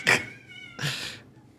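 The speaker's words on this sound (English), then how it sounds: "Cat fight." Cats fighting outdoors, two loud harsh yowls with a pause between, the second drawn out and fading, fairly near.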